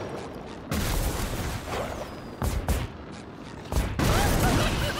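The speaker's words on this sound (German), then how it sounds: "Explosion!" Loud, dense bursts of video game explosions and rumbling crashes in SpongeBob SquarePants: The Cosmic Shake, one after another, with whooshing debris over a constant roaring din.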